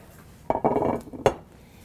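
A small metal saucepan handled on a stovetop makes two quick bursts of clanking and scraping, followed by a sharp single clink, close and distinct in a quiet kitchen.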